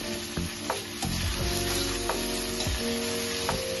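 Mustard curry leaf chicken stirred and fried in a pan over low heat, a dense close sizzle with the spatula scraping and knocking the pan at a few uneven moments, and no one speaking.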